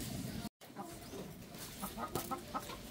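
Rhode Island Red crossbreed chickens feed close by, with soft scattered clucks and pecking sounds over a low, steady background hum.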